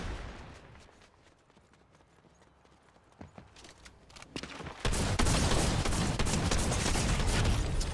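Rapid drum-shotgun fire in Fortnite, starting quietly under ambient game noise with scattered shots, then erupting into a loud, sustained barrage of blasts in the second half.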